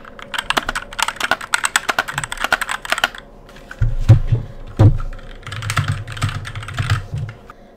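Rapid clacky typing on an HK GK61 60% keyboard with brown switches, close up, in quick bursts of keystrokes with a brief pause and a few heavier thocks from the spacebar or larger keys.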